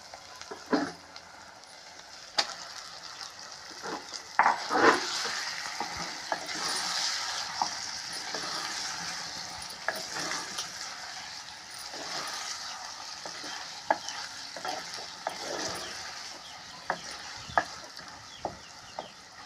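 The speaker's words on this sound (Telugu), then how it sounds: "ఉల్లిపాయలతో బాగా ఎగుతుంది ఇప్పుడు అల్లం వెల్లిపాయ పేస్ట్ మగ్గిందండి మటన్ వేద్దాం" Mutton fries with onions and ginger-garlic paste in a pan: a continuous moderate sizzle broken by scattered utensil clicks and scrapes, close and without talk.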